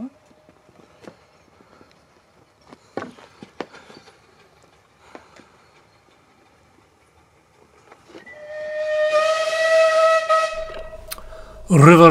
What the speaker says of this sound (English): River Esk gives a warning blast for that crossing.